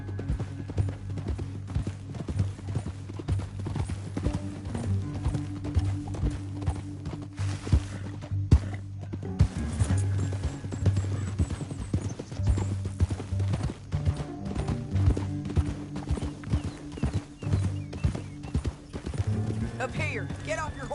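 Horse hooves clip-clopping at a steady gallop in the Red Dead Redemption 2 video game, rhythmic and continuous for most of the stretch, under game music and a man's dialogue, with a whinny briefly audible.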